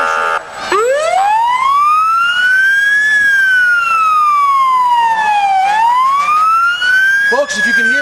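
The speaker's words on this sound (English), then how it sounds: "if you can hear me over the siren, it's pretty loud" A loud fire truck siren at the Hammonton Christmas parade sweeps up and down in long wails, then shifts into a rapid yelp near the end, close by.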